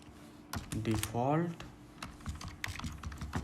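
Code is typed on a computer keyboard in a C programming session, with scattered close key clicks tapping irregularly while someone talks over them.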